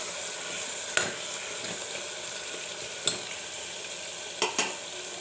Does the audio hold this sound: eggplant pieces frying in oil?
yes